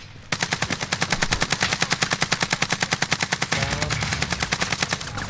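Sustained rapid machine gun fire in a video game, a steady fast rhythm of loud shots running almost continuously and shifting slightly in tone partway through, with no talking.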